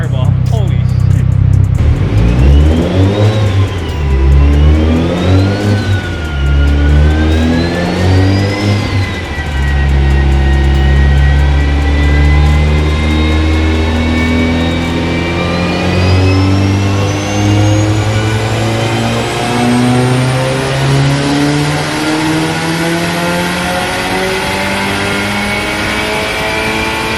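A Mitsubishi Evo 8 engine on a dyno, tuned on pump gas, revs up and down in short bursts before a long, loud sustained pull climbing steadily in pitch, with no talk over it.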